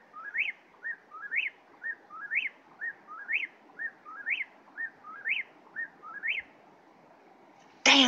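A whippoorwill calls repeatedly at close range, its clear whistled three-part phrases coming in a steady rhythm before a short pause and a brief noise.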